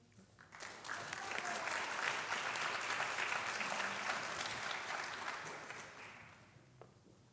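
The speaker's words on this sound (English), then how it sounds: "we need another round of applause for these students for their service to our campus community" Audience applause at a college honors night for students recognized for campus service, swelling in after a quiet start, holding steady as a moderately distant crowd, then fading out.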